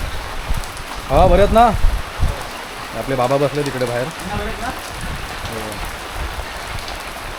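Rain falls steadily on a village, a soft continuous patter and hiss under a person talking nearby.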